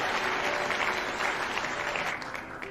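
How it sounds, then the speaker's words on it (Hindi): Loud, steady applause from a seated audience at a business talk, a dense clapping crowd lasting throughout without pause. "एक जोरदार ताली"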